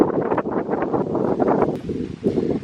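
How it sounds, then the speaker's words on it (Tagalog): Gusty wind buffets the microphone outdoors, rumbling in uneven surges that rise and fall. "Mahangin sa labas, oy."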